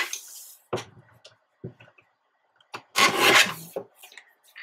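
Scissors trimming a paper scrap for a tiny handmade book: a few sparse snips and rustles with quiet gaps, ending in one longer papery rasp.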